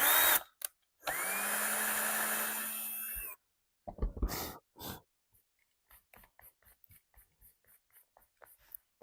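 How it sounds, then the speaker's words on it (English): Power drill driving rusty screws into junk-pile decor, with a short whir, then a sustained loud drilling burst, followed by a few brief bursts and a run of light clicking taps. "Then I'm going to take some rusty screws that we have and attach this."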